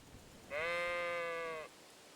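A single sheep in the video game Kingdom Come Deliverance 2 lets out one drawn-out, wavering bleat lasting about a second, clear and close with no other sound around it.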